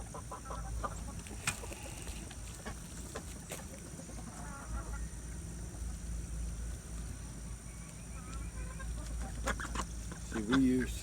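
Chickens cluck intermittently at a homemade DIY poultry feeder, soft and scattered over a low outdoor background, with a louder call near the end.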